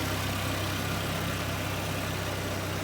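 A car engine idling with a newly fitted exhaust, choke still partly out, giving a steady close rumble with a low pulsing hum and no voices.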